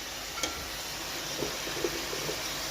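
Pork pieces laid in a frying pan sizzle with a steady crackling hiss, with soft clicks as the meat is moved about, close up and without talking.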